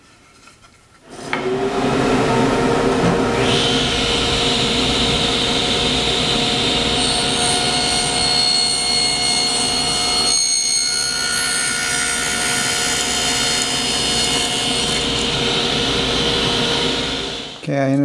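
A jointer cuts a 5-degree bevel along wooden board edges for an inclined cat climber. The machine starts after a brief quiet moment, then holds a loud, steady, whining motor roar close by for about sixteen seconds before cutting off.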